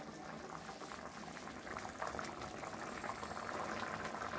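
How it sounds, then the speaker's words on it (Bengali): Fish curry broth at a rolling boil in a pot, a steady dense bubbling and gurgling that stays even throughout, quiet and close, with no talk. "ঝোলটা ফুটে গেছে"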